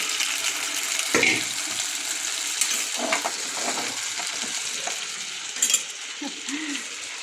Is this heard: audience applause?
no